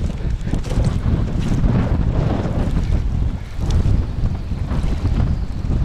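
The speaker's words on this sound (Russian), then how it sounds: "Да, ветер, конечно, разбушевался." Strong wind roars and buffets the microphone in a constant low rumble that swells and eases. No one talks.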